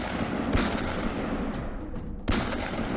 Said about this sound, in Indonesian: di belakangnya polisi masih mengejar dan suara tembakan masih terdengar bersahutan